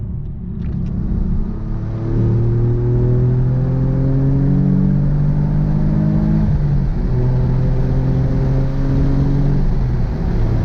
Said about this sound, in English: It has an exhaust on it, but he's not too sure what it is.